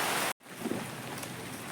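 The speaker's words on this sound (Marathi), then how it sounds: "बघा अजूनही पाऊस चालू असा." Retreating monsoon rain in a Konkan village falls as a steady, even hiss of drops, with a short break in the sound early on before the downpour continues unbroken.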